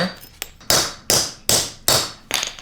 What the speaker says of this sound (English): and then just grab your hammer